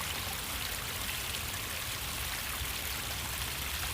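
Small artificial waterfall outdoors at a fishing spot, a steady soft splashing and trickling wash of water, continuous and moderately quiet with no voices.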